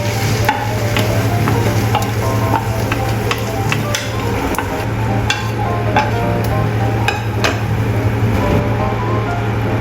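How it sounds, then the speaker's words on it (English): Egg frying in a wok for an onion bread omelette, a loud, close, continuous sizzle with scattered sharp scraping and tapping from a utensil against the metal. "Fry egg until bottom solidifies."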